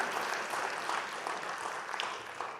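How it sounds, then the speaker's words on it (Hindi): Audience at a temples convention and expo clapping to welcome a guest, a steady wash of moderate applause from a large hall with no voices over it. "एक बार जोरदार तालियों से स्वागत कीजिए इनका"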